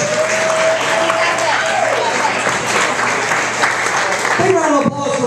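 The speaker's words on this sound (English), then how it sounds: "So look, I'm gonna need y'all to start clapping. Come on, start clapping." Audience applause and crowd noise fill a comedy club as comedian Tom Myers takes the stage, a steady dense wash of clapping with voices mixed in throughout.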